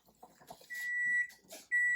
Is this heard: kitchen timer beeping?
yes